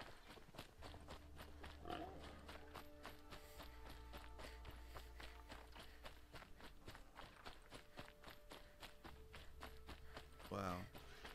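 Pigs grunt twice in Horizon Zero Dawn Remastered, short distinct oinks standing out over footsteps and a sustained musical background.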